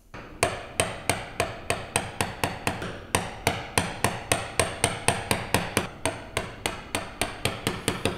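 A hand chisel struck by a mallet as it chops down to the line on a wooden tenon, roughly two dozen sharp, evenly paced knocks close by, each with a quick ringing decay, no talking.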